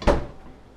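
A refrigerator cheese drawer pushed shut in a home kitchen, one firm close thunk near and loud, then a short fading rattle with no voices.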